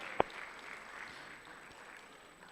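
Scattered applause from a university debate championship audience, a fairly steady wash of clapping at moderate distance with one sharp nearby clap near the start, no talk over it.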